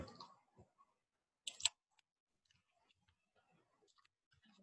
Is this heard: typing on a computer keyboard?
yes